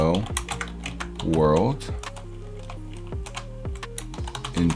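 Someone types on a computer keyboard into Notepad, producing rapid close key clicks in short bursts while a person talks over them.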